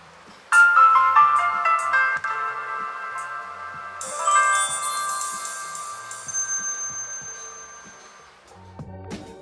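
An old QWERTY keypad mobile phone from around 2010 plays its startup jingle, a bright synthesized melody of clear tones that swells into a shimmering chord before fading, followed by a few soft handling clicks.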